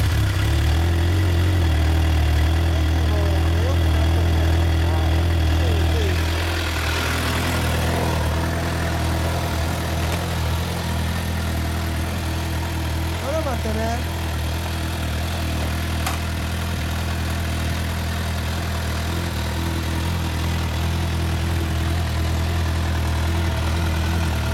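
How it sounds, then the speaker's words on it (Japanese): A 2011 Suzuki GSX-R750 sport motorcycle with Yoshimura parts idles at a steady, even rumble, close by and alone, holding a constant low throb for the whole stretch. "エンジン音聞かせてもらえますか"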